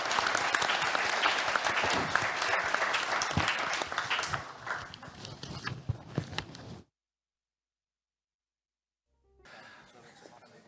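Audience at a European economic integration conference claps for a panel, dense applause fading gradually, then breaking off into silence before faint room noise with a brief voice returns.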